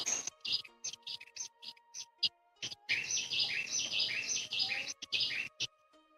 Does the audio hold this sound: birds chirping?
yes